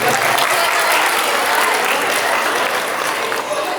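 Audience applause at a Tamil school's annual day certificate presentation, a loud, dense burst of clapping that stays steady throughout with no break.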